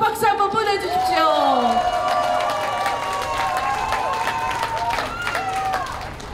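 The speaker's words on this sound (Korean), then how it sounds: "문재인 힘내라고 박수 한번 보내주십시오" Crowd at an outdoor political campaign rally in Seoul applauds and cheers loudly for several seconds, with whoops and shouting voices mixed through the noisy clapping.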